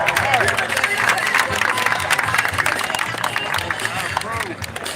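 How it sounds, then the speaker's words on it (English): A crowd at a Juneteenth reparations rally in DC claps and cheers under an announcer's amplified voice, with dense applause and shouts continuing throughout. "Clap it up, clap it up!"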